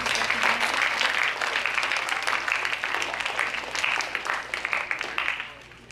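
At a middle school awards assembly, a crowd applauds award recipients with dense, continuous clapping that stays loud for several seconds and then thins out toward the end.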